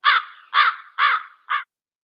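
A crow caws four times in a steady rhythm, each harsh call loud and close with short pauses between them, and the last call is shorter.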